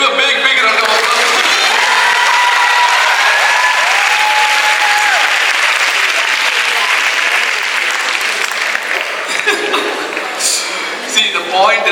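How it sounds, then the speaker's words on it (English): A large audience at a Chennai wellness session breaks into a big round of applause, loud and close, with scattered cheers rising through the sustained clapping before it thins toward the end. "let's give a big round of applause"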